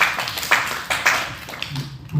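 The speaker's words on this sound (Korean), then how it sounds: "태연이 박수 주세요" An audience at an early-morning church youth summer retreat service claps in short, scattered, moderately loud bursts, with some voices mixed in.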